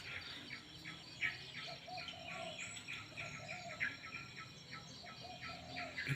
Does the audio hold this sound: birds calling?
yes